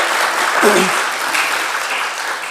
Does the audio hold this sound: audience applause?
yes